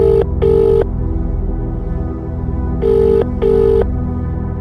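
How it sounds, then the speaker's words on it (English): A telephone rings after a sat phone is dialed: two pairs of electronic ring bursts, a short gap then another pair, loud and clear over a low steady hum. "He presses a strand of numbers and puts the phone to his ears."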